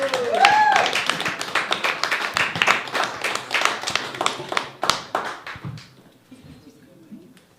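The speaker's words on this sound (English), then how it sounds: "Everyone, please give a loud round of applause for Trevor Curl" Loud, close applause from a small open-mic stand-up comedy crowd greeting a comedian, crisp individual claps in a quick irregular patter that thins out and stops near the end.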